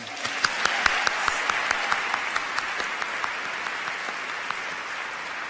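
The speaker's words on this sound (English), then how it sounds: "they all deserve a round of applause" Applause for poets at the 73rd National Book Awards ceremony, a sustained roomful of clapping with some sharper individual claps standing out near the start, then evening into a steady wash.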